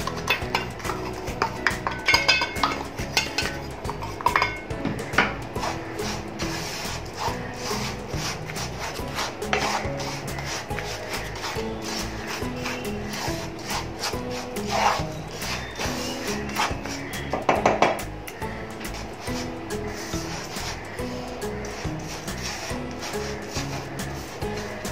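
Ragi (finger millet) flour laddu mixture being mixed by hand in a dish, a steady run of soft rubbing, scraping and stirring sounds with occasional sharper clinks, close and continuous, no talk.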